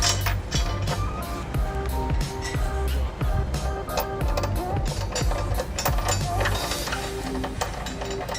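A ratchet snugs a trailer hitch bolt into a weld nut on a 2006 Honda Odyssey, making rapid close metallic clicking runs in repeated bursts over a busy mechanical background.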